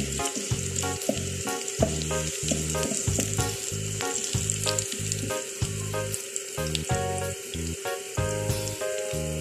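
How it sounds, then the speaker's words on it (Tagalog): Udon noodles and sardines fry in a hot pan with a dense, steady sizzle broken by rhythmic stirring and scraping, close up and continuous with no voices. "Nagluluto ako ng udong guys."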